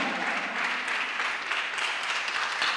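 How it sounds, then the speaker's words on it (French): A church congregation applauds in a steady, dense wash of clapping that holds at an even, fairly loud level. "Acclame bien, acclame bien, acclame bien"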